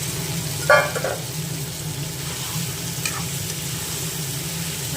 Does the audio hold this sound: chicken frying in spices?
yes